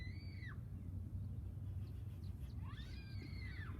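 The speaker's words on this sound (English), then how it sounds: "it's a screaming child." A child screaming outdoors in a temper tantrum, heard as two shrill, wavering shrieks some distance off, one brief at the start and a longer one near the end, over a low rumbling background.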